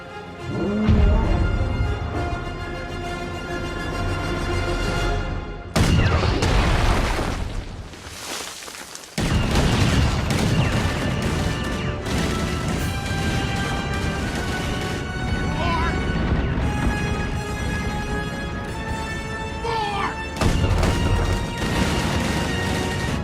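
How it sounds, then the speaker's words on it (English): Many guns in a Star Wars: The Last Jedi battle fire heavily, with booms, crashes and explosive blasts layered over dramatic orchestral music for over twenty seconds, loud and continuous with brief lulls. "I want every gun we have to fire on that man."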